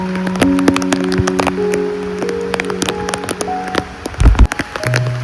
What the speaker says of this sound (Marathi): झाडावरून जेव्हा पावसाचं पाणी पडतं तेव्हा का आवाज एक नंबर येतो नाही.